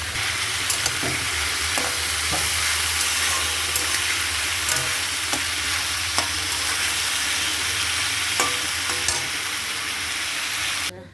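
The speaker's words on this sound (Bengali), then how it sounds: "একদিকে মাছের ঝোল বসিয়েছি বন্ধুরা, আর একদিকে আলু ভেজে নিচ্ছি" Potatoes frying in one pan beside a simmering fish curry, a loud continuous sizzle with periodic clicks and scrapes of stirring, close and unbroken by talk.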